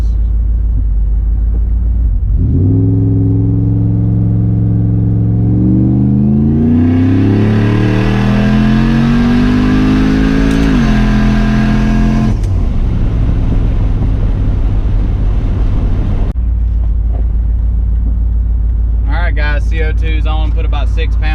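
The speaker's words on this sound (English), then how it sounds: "I'm gonna do a wastegate hit from first gear and see what happens." A boosted Ford F150 pickup with its wastegate opened launches hard from first gear at a red light. The engine roars up through the gears for about ten seconds, loud and close, then drops back to a rumbling idle.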